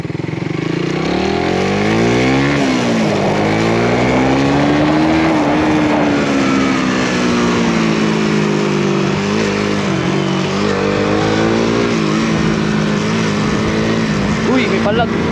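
An underpowered RFI motorcycle engine hums steadily while being ridden, its pitch rising and falling with throttle changes, loud and close with wind and road noise throughout.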